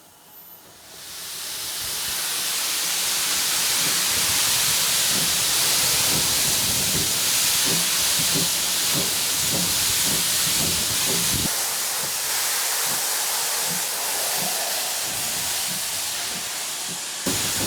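A steam locomotive moves off from a station platform in reverse after its regulator is opened: loud, sustained steam hiss fills the scene while rhythmic chuffs and mechanical knocks pulse underneath, easing slightly toward the end.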